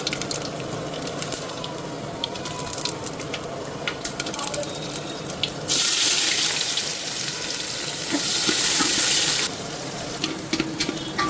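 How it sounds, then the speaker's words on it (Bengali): Onions frying in a pan for beef khichuri while being stirred, a loud, dense hiss and crackle with scraping, swelling into a broad rushing burst partway through. "এই যে পেঁয়াজটা এরকম নাড়তে থাকবে"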